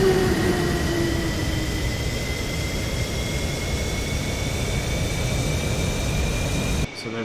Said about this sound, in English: so there's the right engine spooling up